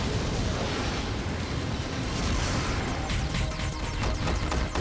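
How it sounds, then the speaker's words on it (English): A cartoon dinosaur's fire-breath attack roars as a dense, continuous blast of crackling, explosive noise, loud and sustained, with sharper bursts and pops building toward the end. "Try some heat! Fire breath!"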